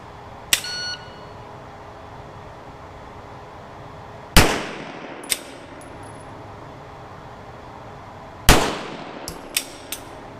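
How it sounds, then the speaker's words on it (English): Gunshots ring out at an outdoor range aimed at steel targets set about 19 to 20 yards away. Two sharp, loud reports come several seconds apart, each trailing off with a reverberant tail and followed by fainter metallic clangs. "I'm really gonna take my time on these shots and see what happens."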